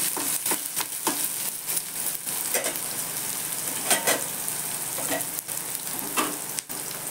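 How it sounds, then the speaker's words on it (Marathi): Onions sauté in a pan for upma, giving a steady close sizzle punctuated by regular scraping taps of a spatula stirring, with no one speaking. "कांदा घालते त्यात. कांदा थोडा परतू द्यायचा."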